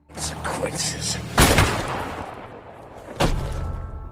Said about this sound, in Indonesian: John berhasil menembak babatok si Marcus